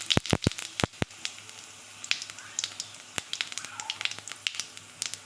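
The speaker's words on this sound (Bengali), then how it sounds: "আর একটু জিরে ফোড়ন দেবো।" Cumin seeds and bay leaves hitting hot white cooking oil, a burst of sharp crackles and pops at the start, then scattered spitting and sizzling that thins out over a few seconds.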